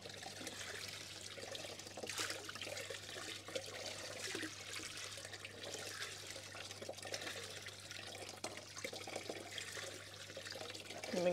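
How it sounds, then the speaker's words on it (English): Water flows out of the bottom of a koi pond spillway and pushes up through filter sponges, giving a steady, close trickle and splash that holds constant throughout with no talking. "the water in this spillway comes out through the bottom, so it's going to push up through the sponges"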